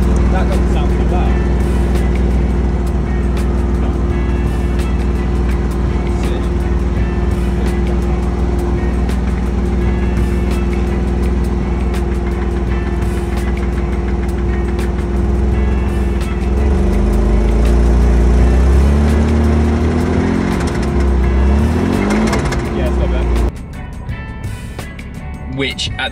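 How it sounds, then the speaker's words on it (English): A Porsche 987 Boxster engine with a heavy knock runs loud and steady on a cold start, a dense mechanical drone that rises slightly before cutting out abruptly near the end. "it wasn't a light tapping noise, it was a large knocking noise."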